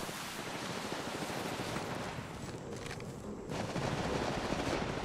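Rapid automatic gunfire in the mobile shooter game Apex Legends Mobile, a dense continuous crackle of shots, fairly faint and steady with a brief thinner stretch before bursting louder again.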